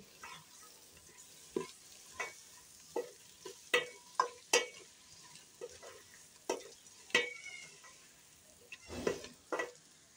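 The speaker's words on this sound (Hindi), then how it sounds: "पाँच मिनट तक इनकी भुनाई करेंगे।" Potatoes and eggs frying in a pan, with a run of separate stirring scrapes and clinks heard close up over a steady sizzle, about a dozen irregular strokes and no talking.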